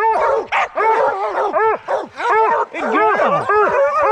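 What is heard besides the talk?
hound dogs barking and howling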